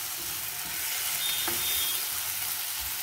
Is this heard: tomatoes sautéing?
yes